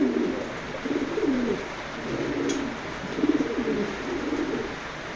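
Racing pigeons in a loft coo in soft, repeated throaty rolls, close and fairly quiet, one phrase after another over a faint background hiss.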